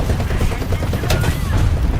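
Rapid gunfire from the M18 vehicle's gun in a video game, a dense, continuous burst of heavy shots over rumbling low-end noise, loud and close throughout.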